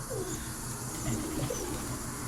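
Phantom pigeons coo softly in an enclosed coop, low rolling calls repeating over a steady background hiss.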